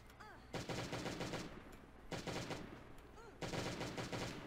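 Three rapid bursts of automatic gunfire in the Last Day on Earth video game crackle close and loud, separated by brief pauses, with faint voices in the background.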